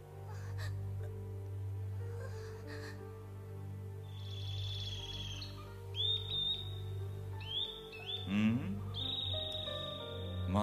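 A few short, high bird chirps and tweets ring out in sporadic bursts over a steady low musical drone, moderately close and clear, with no talking.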